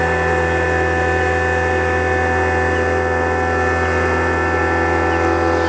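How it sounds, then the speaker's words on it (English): An HVAC vacuum pump running on location, giving a steady loud electrical hum and mechanical drone with strong tonal bands and no change across the span. "we'll go ahead and start the pump"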